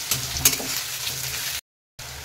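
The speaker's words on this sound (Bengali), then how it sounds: "পেঁয়াজগুলো যতক্ষণ একটু লাল লাল না হচ্ছে আমি ভেজে নেবো।" Onions frying in oil in a pan, a steady close sizzle with a couple of sharp crackles, cut by a brief silent gap before the hiss resumes.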